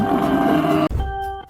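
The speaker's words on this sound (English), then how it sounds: "Buffalo." A cartoon buffalo call from giant animal figures at a fountain, a sustained low, grunting roar that cuts off abruptly, followed by a brief quieter tail, heard close with no talk.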